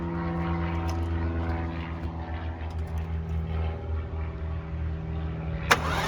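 A junkyard Mercedes M117 5.8 V8 engine cranks over on a hooked-up battery, giving a steady, rhythmic whirring drone that holds close and even, with a brief sharp click near the end.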